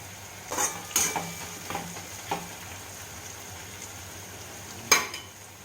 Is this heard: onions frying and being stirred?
yes